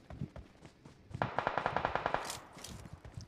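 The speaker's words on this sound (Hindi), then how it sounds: "मुझे ना इस साइड से फायर आते हैं" Rapid burst of automatic gunfire in the PUBG Mobile battle royale game, about a dozen evenly spaced shots in a steady rhythm midway through, with scattered game noise and more distant shots before and after.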